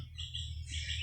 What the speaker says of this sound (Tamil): ஒவ்வொரு குருவியின் சத்தம் அணில் சத்தம் எல்லாம் கேட்டு கொண்டு இருக்கு